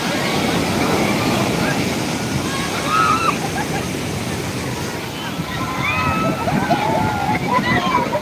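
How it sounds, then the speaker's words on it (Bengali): Ocean waves surge and crash on Digha beach at high tide, a loud continuous wash of surf, with crowd voices and shouts mixed over it. "দারুণ দেখার মতো ঢেউ দেখার মতো ঢেউ আসছে"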